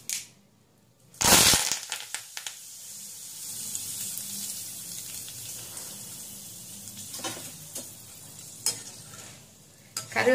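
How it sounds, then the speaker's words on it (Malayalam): Curry leaves dropped into hot oil after frying boondi, bursting into a loud sudden spatter that settles into a steady close sizzle with occasional stirring clicks. "ഇനി ഈ ചൂടെണ്ണയിലേക്ക് കുറച്ച് കറിവേപ്പില ഇട്ട് കൊടുക്കാം."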